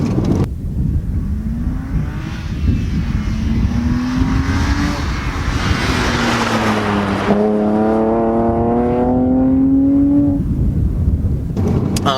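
A BMW 128i engine pulls hard out of corners, revving up through the gears with a rising drone that drops at a shift and climbs again, loud and close throughout.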